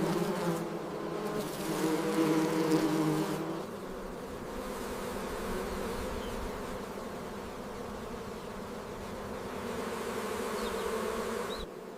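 Honey bees swarming around an opened hive during honey harvesting, a dense, continuous buzz from many insects, loud and close, with no talk.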